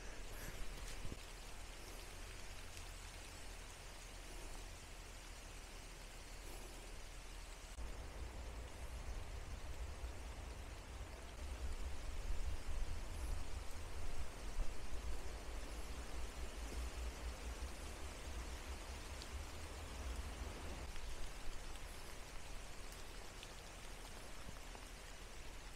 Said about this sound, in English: Well, the rain's set in and it's getting dark.